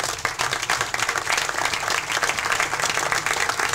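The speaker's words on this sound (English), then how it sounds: "so let's give him a nice round of applause." Crowd clapping at an outdoor groundbreaking ceremony for a senior recreation center, a brisk, even round of applause from many people, moderately close and continuing for several seconds.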